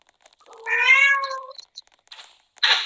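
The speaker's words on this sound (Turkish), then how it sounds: "Kedinden geliyor o ses kedinden." A cat meows once, a drawn-out, close meow, followed by a couple of soft short noises and a brief rustle.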